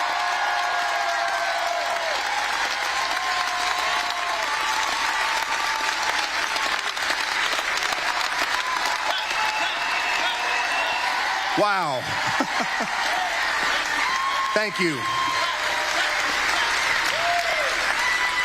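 A big crowd at a political rally in Wheeling, West Virginia applauds and cheers loudly and continuously for a speaker taking the stage, with scattered whoops and someone briefly speaking over the ovation.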